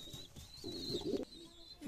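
Fancy pigeon cooing nearby, a low soft burbling coo swelling in the middle, heard among jet black and yellow cross-bred birds in a loft, with faint chirps in the background.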